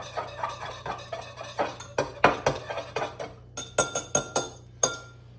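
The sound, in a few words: stirring minced garlic into pizza dough mixture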